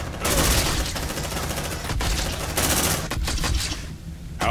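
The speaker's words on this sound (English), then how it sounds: "Under heavy fire." Heavy, sustained rapid-fire gunfire in Aliens: Dark Descent, dense continuous bursts with brief gaps, loud and close, with no voices over it.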